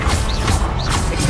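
A spell being cast in the video game Hogwarts Legacy on PS5: a loud burst of whooshing magical energy with rhythmic swells, dense and continuous across the moment, with no talk.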